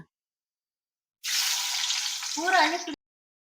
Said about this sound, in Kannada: ಎಣ್ಣೆ ಕಾದಿದೆ ಈಗ ಈರುಳ್ಳಿನ ಎಣ್ಣೆಗೆ ನಾನು ಹಾಕೊಳ್ತಾ ಇದ್ದೀನಿ